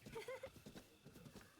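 A horse in Breath of the Wild makes faint snorting and hoof sounds in short bursts, quiet and broken up.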